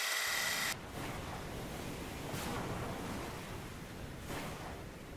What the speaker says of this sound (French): Très vite, les flots se déchaînent près du Cap Bon, au nord-est de l'actuelle Tunisie.